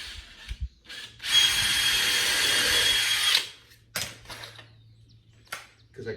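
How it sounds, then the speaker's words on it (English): A power drill whines loudly for about two seconds while drilling into wood, then gives a few short, quieter bursts, close by with no talking. "Now this one I'm going to have to drill"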